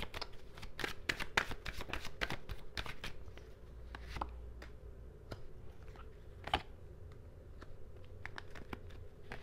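Tarot cards being shuffled by hand in a steady run of crisp riffling snaps and slides, close and fairly loud, with brief pauses between bursts and no talking.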